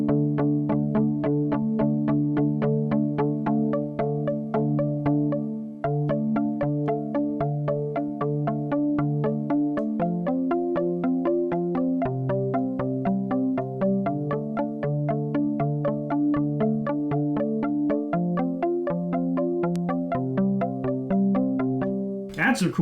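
Arturia PolyBrute synthesizer playing a plucky, palm-muted-guitar-like sequence through a chorus effect, steady repeated notes with shifting chords, loud and continuous with no talking.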